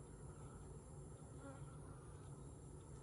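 Honey bees hum around a beekeeper's first hive, where they are building comb and capping honey in a deep box, a low, steady, continuous buzz with no voices.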